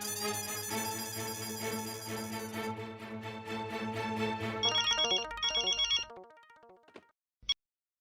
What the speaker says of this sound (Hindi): एक बार फिर मेहता साहब को फोन करता हूँ।